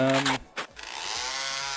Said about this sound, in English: That's actually the chainsaw, which is the only melee combat weapon.